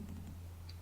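A single soft keystroke taps on a computer keyboard, faint and brief against a low background hum.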